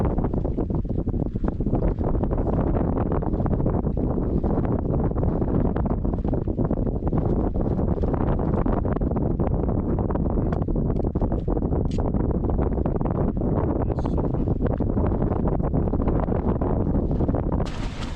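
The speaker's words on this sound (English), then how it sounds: "Hopefully this wind doesn't keep me up all night, because it is quite noisy." Strong wind buffeting a wild camp on Sugar Loaf, a loud continuous roaring rush with gusty thumps against the microphone throughout, no voices.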